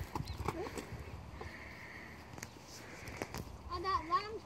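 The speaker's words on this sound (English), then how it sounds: "Oh, here's another pony!" Pony at a country zoo during feeding, with soft hoof clip-clops and a short whinny near the end, heard under children's and adults' chatter.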